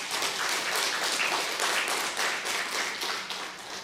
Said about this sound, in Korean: 큰 박수 한번 해요.